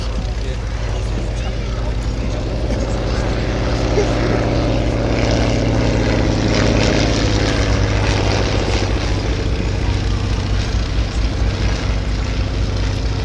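Engine and propeller of a WACO UPF-7 biplane at an air and car show, a steady loud drone running throughout under continuous talk.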